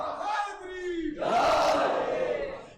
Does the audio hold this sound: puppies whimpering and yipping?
no